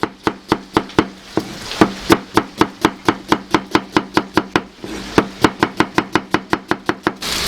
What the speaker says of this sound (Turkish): saç kavurmanın soğanlarını doğrayacağım